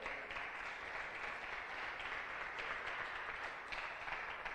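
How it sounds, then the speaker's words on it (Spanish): Church congregation applauding together during a Spanish-language worship service, a steady dense wash of clapping holding evenly for several seconds, moderately distant and fairly quiet. "¿Le damos una ofrenda de palmas al Rey de Reyes?"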